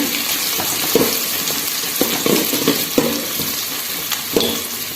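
Onions sizzling and being stirred in a pan while sautéing for mutton biryani, a steady frying hiss with a few sharp spoon scrapes, close and moderately loud, with no talking.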